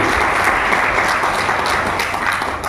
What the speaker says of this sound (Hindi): तो एक बार जोरदार ताली हमारे डॉक्टर संजीव सर के लिए